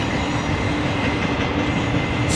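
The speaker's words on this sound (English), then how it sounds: "This is a UPS train, and I'm not seeing evidence that this is going to stop" A UPS intermodal freight train rolls past at night near refineries in Ogden, a loud continuous rumble and rattle of wheels and cars with no pauses and no voices.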